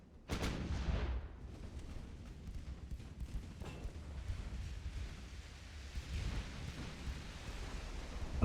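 A 15-inch naval gun fires in Ultimate Admiral: Dreadnoughts, a heavy boom near the start rolling into a long, low rumble, with further distant thuds and crackles over steady sea-battle ambience.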